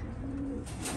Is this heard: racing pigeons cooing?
yes